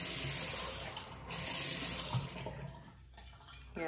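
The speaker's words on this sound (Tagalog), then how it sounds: "Lahat ng gripo working to" Strong water gushes from a faucet in a gas-heated house with a water heater, a loud, close rushing flow that dips briefly and then eases near the end, with no talk.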